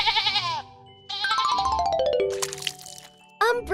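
A sheep bleats in a loud, close, wavering call, followed by tinkling, ringing sound effects and a short final bleat.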